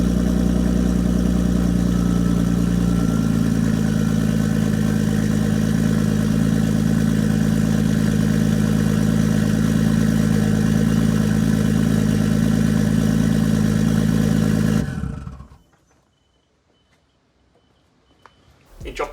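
A Nissan Skyline R32 engine runs loud and close at a steady warm-up idle, then cuts out abruptly, leaving near silence.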